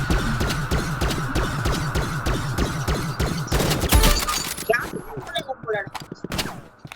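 Video game gunfire with sniper shots: a steady, rapid burst of automatic fire pounds for about four seconds, ending in a heavy blast, followed by scattered sharper shots and clatter while players talk.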